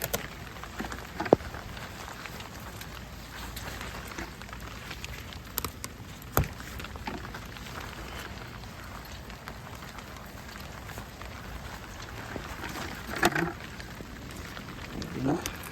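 Rain falls steadily outdoors during an okra harvest, a soft continuous hiss with scattered drops and a few brief knocks, while a voice speaks faintly at times.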